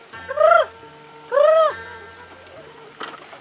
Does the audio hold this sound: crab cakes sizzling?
no